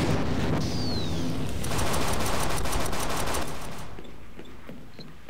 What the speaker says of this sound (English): Cal gunned him down with a pistol